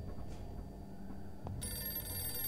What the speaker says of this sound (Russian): Там кто-то звонит в телефон